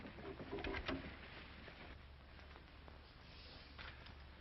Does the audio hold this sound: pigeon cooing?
yes